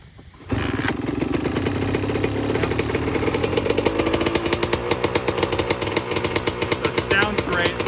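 Freshly rebuilt 2002 Honda CR80 two-stroke dirt bike engine with the choke off, starting abruptly and then running steadily with a loud, buzzy, pulsing rattle throughout, close up.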